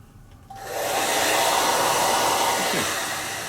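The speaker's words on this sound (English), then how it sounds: "I've just blasted this with a hair dryer just to dry out the fixer" A hair dryer switches on and blows with a loud, steady whoosh, close up and uninterrupted, drying fixer on an armour scale model.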